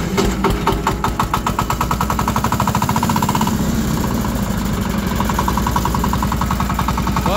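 A cheap tractor's engine runs loud and steady close by, with a rapid knocking, rattling pulse throughout and no speech.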